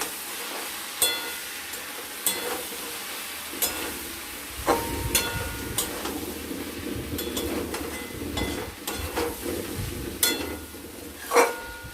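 A pan of Bengali chela fish curry over high heat, stirred with a utensil: steady sizzle beneath scattered metallic scrapes and clinks that come at irregular intervals, close and moderately loud, without voices.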